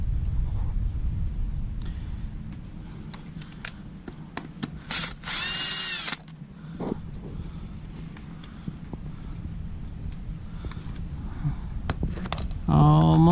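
A power tool on a Kawasaki KLX 110 removes the cam gear cover bolts, giving short buzzing bursts of rattling fastener work amid clinks of tools and low background hum.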